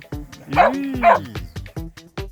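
Corgis bark in short, sharp, repeated yaps of about a dozen quick barks, with a couple of longer, higher yelps in the middle. The barking is close and loud, heard in a snowy Zakopane winter setting.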